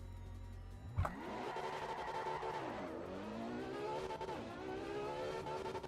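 A video game car engine, fairly faint, starting with a thump and then revving up through smooth rising and falling pitch sweeps as it shifts gears, with the sound clipping and harsh. No one speaks.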